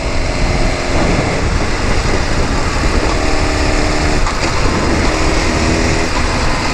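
A 2012 Suzuki GSX-R 1000 sportbike engine drones loudly and steadily while riding, a dense, constant roar mixed with wind rush and no break in sound.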